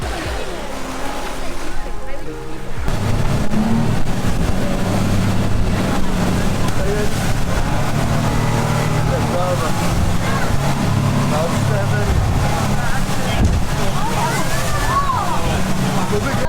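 Loud, steady boat engine roar on a rough sea near the Phi Phi Islands, with rushing water and wind buffeting the microphone, continuous throughout with no pauses.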